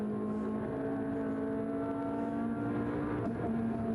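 Onboard a race car in a Trofeo Pirelli round at Mugello, 2015, with a steady, loud engine drone and whine as it holds speed, plus wind and road noise and a brief shift of pitch near the end.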